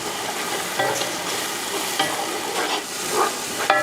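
Ginger garlic paste sautéing in a pan, a steady close sizzle broken by occasional scraping stirs of the spoon.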